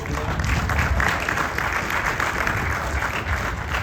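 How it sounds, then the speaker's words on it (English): Applause for board members and commissioners at a groundbreaking ceremony: steady, dense clapping from an audience, sustained and fairly loud throughout with no break. "let's have a little round of applause for them."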